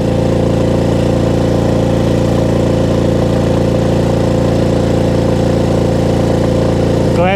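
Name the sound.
motorbike engine riding up a mountain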